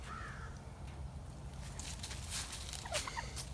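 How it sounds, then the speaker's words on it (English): Turkeys at a historic farm park give a few faint gobbling calls, brief bursts over a steady low rumble of background noise with no talk. "Tracy done found some turkeys."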